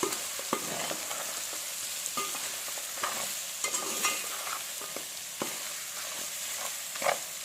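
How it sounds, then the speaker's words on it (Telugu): Mutton pieces coated in masala powder are stirred in a sizzling pan, with a steady fry hiss under repeated sharp scrapes and clinks of the spoon against the metal, close and fairly quiet. "మొత్తం మిక్స్ అయ్యేటట్టు కలిపేయండి."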